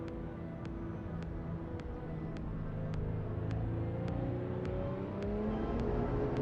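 A Porsche 992 GT3 RS engine in a driving sim game hums at a steady low drone and slowly rises in pitch, faint and even with no talking.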